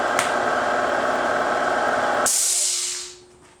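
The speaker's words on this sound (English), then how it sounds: "You got to be so careful spraying this stuff." Steady loud hiss of a spray gun painting a Ford ZF Fairlane car body without primer, running for about two seconds, then it cuts off, leaving a brief high hiss that fades out.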